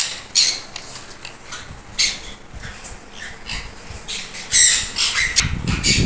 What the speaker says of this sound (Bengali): এখানে আছে আমার সানচিকের পেয়ার গুলো, এখানে আছে এক পেয়ার সানচিক